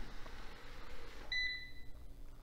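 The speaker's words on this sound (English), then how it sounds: "if you listen, you'll hear it beep when it docks itself and it starts charging again" A Eufy RoboVac 11S robot vacuum gives a short, clear electronic beep on docking to charge, a quiet two-tone chirp heard midway over a low background hum.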